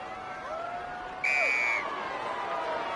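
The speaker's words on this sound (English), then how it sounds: "A blow of the whistle from the referee, and we're underway again at the start of the second half." A referee's whistle in the rugby video game Rugby 22 sounds once as a single sustained blast of about half a second, over a steady crowd murmur from a stadium.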